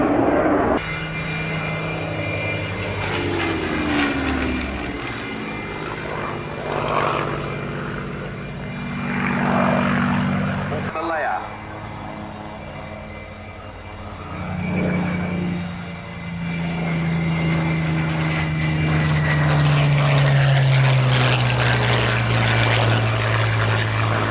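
A Red Arrows jet drones loudly overhead for a long stretch, its pitch sliding downward as it passes, with a sustained roar throughout.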